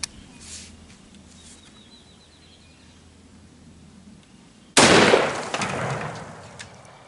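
A .308 rifle fires a sabot round over a chronograph: a single loud, sharp report bursts out after several quiet seconds, then rings and fades outdoors.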